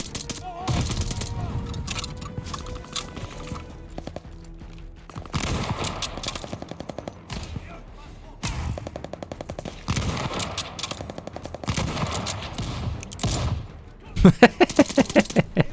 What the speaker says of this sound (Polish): Shotguny.